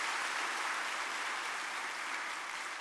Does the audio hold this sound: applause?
yes